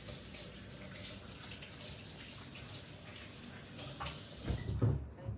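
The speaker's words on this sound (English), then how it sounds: "Let me just wash my hands a little bit." A kitchen tap runs steadily into a sink while hands are washed, a soft continuous splash with a few louder gurgles and sloshes just before the flow cuts off.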